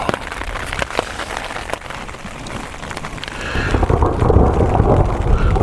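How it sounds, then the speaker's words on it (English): Heavy rain with big drops pattering on a camping tent in the Arizona backcountry, a dense close drumming that swells louder partway through, with no talking. "The rain's definitely picked up bigger drops and stuff"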